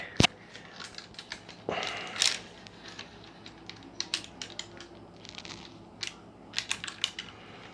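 Guitar strings are unwrapped and yanked off a budget Strat copy, a run of sharp crinkles, snaps and scraping clicks, close and fairly quiet, with a couple of louder bursts early on.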